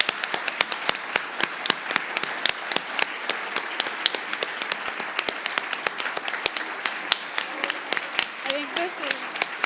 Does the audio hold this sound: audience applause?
yes